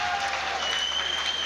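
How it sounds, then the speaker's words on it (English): Crowd cheering and applauding for Armenian weightlifter Martirosyan at the 2008 European Weightlifting Championships, a steady, continuous wash of noise from a large arena audience with no individual voices standing out. "a big cheer for Martirosyan"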